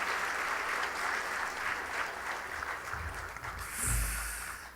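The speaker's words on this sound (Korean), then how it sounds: "우리 박수하시면서 우리 들어가십시다" A church congregation at a New Year's Eve service claps together in a steady, moderately distant round of applause that swells toward the end, with a brief voice near the close.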